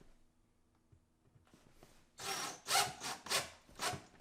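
An impact driver with a Phillips bit sets screws into a kitchen cabinet pull-out trash bracket: quiet handling at first, then about four loud, short rattling bursts close up.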